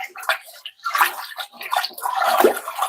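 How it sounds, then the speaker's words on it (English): Pottery glaze is stirred in a bucket, giving wet irregular sloshing and swirling liquid sounds, close and fairly loud. "Stir my glaze up again."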